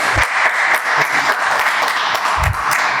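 A crowd claps at a city council regular meeting, a steady wash of moderate applause with a few low thumps, lasting the whole moment without clear speech.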